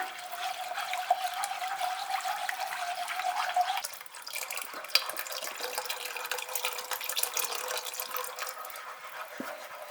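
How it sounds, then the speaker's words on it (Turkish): Milk poured steadily into a dessert mixture while it is stirred, a continuous wet rushing pour up close with small splashes and scraping, easing in tone partway through. "Karıştırarak sütünü ekleyeceğim."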